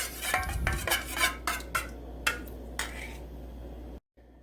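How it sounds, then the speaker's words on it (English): Egg yolks whisked in a bowl for pasta carbonara, a quick run of metal clinks and scrapes against the bowl in short bursts, fairly close, then it stops. "we're going to want to whisk this together"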